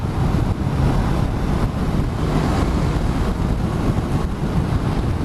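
A 2019 Honda CBR500R motorcycle cruises steadily at 55-60 mph, heard as a loud, constant wind roar that buries any engine note.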